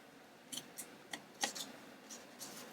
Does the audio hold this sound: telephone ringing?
no